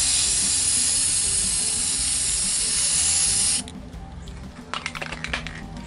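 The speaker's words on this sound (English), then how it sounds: "So I am going to spray the first coat." Rust-Oleum 2X Ultra Cover Gloss Clear coat sprayed from an aerosol can onto a sea turtle coaster artwork, a steady loud hiss for several seconds that stops abruptly, followed by faint light clicks and taps.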